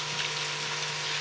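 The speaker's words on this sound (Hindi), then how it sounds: "थोड़ा सा फ्राई कर लो।" Vegetables sizzle in hot oil in a pan while cooking chicken chow mein, a steady, close hiss with no break.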